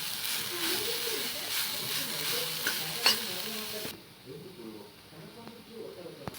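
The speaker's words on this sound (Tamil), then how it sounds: "இது நல்லா பச்சை வாசனை போக வதக்குறோம்." Grated carrot for carrot halwa sautés in a pan with a soft, moist sizzle and intermittent stirring scrapes, close up, with a voice talking over it; the sizzle drops quieter partway through.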